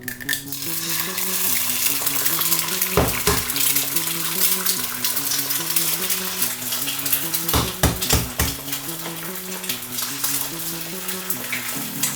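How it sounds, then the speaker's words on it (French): Four eggs fry in a pan with a loud, steady crackling sizzle and occasional clinks of a utensil against the pan, while soft music plays underneath. "Mettre 4 œufs dans la poêle."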